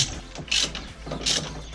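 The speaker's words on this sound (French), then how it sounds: "On n'oublie pas le serrage au couple" Two quick bursts of sharp ratcheting clicks from a torque wrench tightening bolts on a Golf's turbo and exhaust, close and fairly loud, separated by a short pause and with no talking.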